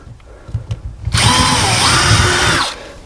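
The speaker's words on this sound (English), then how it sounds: "get your drill and go into each 4 corners of the plasterboard" Power drill boring through a plasterboard corner, a loud, close whine kicking in and running steadily for about a second and a half before stopping, after a few faint taps.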